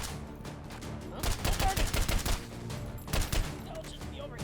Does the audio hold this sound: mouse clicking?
no